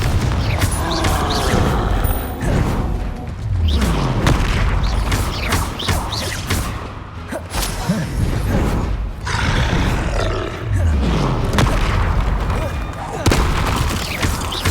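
A fight in the Hogwarts Legacy video game packs Bombarda and Confringo spell explosions together with creature roars and grunts, making loud, overlapping booms and a rumbling fusillade that runs throughout.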